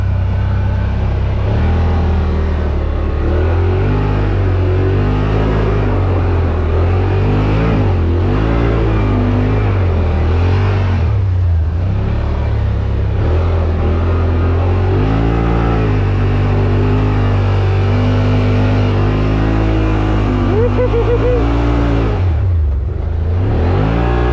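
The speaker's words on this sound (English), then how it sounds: "Spinning tire like crazy." Yamaha Rmax 1000 side-by-side climbing a hill with its tires spinning, the engine droning loud and close throughout and rising and falling in pitch as the throttle changes.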